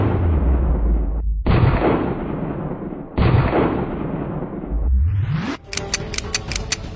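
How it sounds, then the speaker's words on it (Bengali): Gunfire in a dramatic scene rings out in long, loud, close bursts with brief gaps. It ends in a quick run of sharp repeated shots, with no talk. "নিচে গুলি কর, প্যান্টে গুলি কর।"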